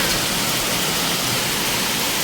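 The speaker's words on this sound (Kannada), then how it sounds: "ಜೋರು ಮಳೆ ನೋಡಿ." Heavy rain pours steadily as a dense, even hiss, close and loud throughout with no breaks.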